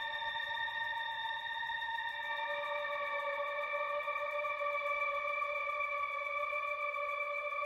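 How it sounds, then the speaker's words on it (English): A Eurorack modular synth trance patch holds a steady sustained chord of several bright tones drenched in reverb and chorus-like shimmer, playing continuously at an even level with no voices. "reverb"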